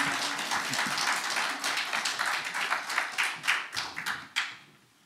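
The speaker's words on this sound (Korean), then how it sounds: "박수로 환영해 주시기 바랍니다." Audience applause welcoming a speaker at a church-history lecture on British churches, a dense patter of clapping that tapers into a few scattered claps and fades out.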